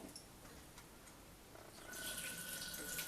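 Water pours from a tap into a Cookeo multicooker holding rice and salt, a soft trickle growing into a steady, brighter stream in the second half, quiet and close with no talking.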